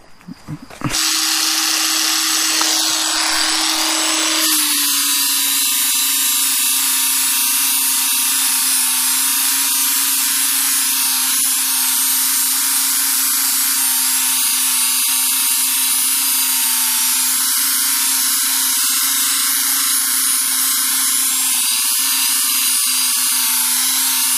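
A Parkside PWSA 20-Li B2 cordless 20V angle grinder spins up and sands steel with a flap disc, a steady loud whine holding for over twenty seconds without letup.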